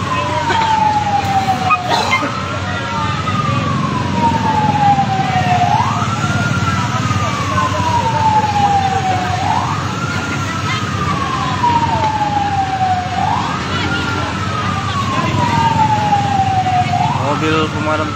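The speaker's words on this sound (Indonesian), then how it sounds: "Mobil pemadam kebakaran." A wailing fire engine siren at a fire in Rimo, Aceh Singkil, Indonesia rises and falls in slow, repeating sweeps, loud and close, over a rumbling engine and street noise.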